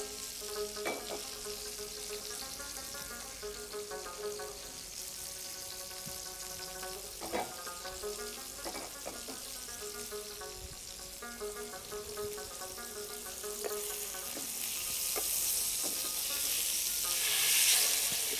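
Fish frying in olive oil in a pan, a close crackling sizzle with scattered pops and utensil clicks under faint tonal background music, the hiss swelling louder toward the end.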